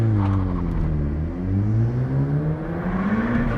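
A Mk2 SEAT Leon Cupra engine revs up toward 3,000 RPM and pulls away, its note climbing steadily through the gears, loud and close throughout with no talking.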